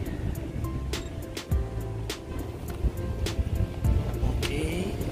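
A Honda New Brio fitted with a roof-mounted bike carrier drives along a road, steady tire and wind rumble with occasional sharp rattles and knocks, moderately loud from inside the car.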